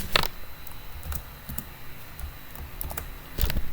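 Test code for an Angular unit test being typed on a computer keyboard: scattered, uneven key clicks with a few louder strikes at the start and end, close by, with no talking.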